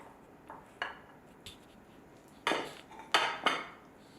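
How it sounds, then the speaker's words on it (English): Drained mixed vegetables tipped into a bowl for Trinidad potato salad, giving a few close clinks and knocks of utensil against dish, scattered and sharper toward the end, with no talking. "Add in the drained mixed vegetables."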